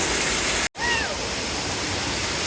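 Steady, loud broadband rush of a zoo waterfall, heard from behind the falling water, filling the clip continuously apart from one brief cut near the start.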